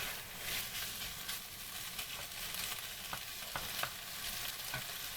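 Beef pieces frying in a pan, a steady close sizzle with scattered crackles and occasional scraping stirs, and no one talking.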